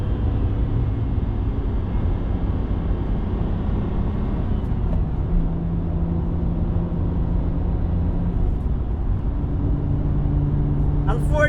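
A BMW 328i E90 with an N52 engine and upgraded exhaust, driving with a deep, steady drone heard from inside the cabin, continuous and loud throughout, with a few faint clicks near the end.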